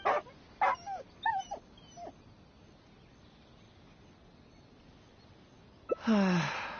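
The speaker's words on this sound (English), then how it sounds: "Oh, here, doggy." A dog in the Genshin Impact video game lets out a quick run of whimpers and yips near the start, falls quiet, then gives a louder, longer whine at the end.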